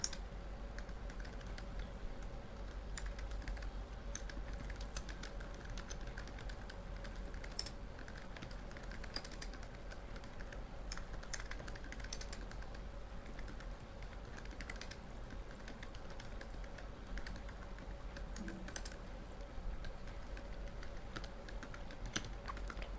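Soft keystrokes patter steadily on a computer keyboard while HTML boilerplate code is written, a faint, continuous run of quick clicks throughout.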